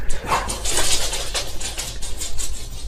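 Several dogs bark in rapid, overlapping bursts, loud and close, with high yips mixed in throughout.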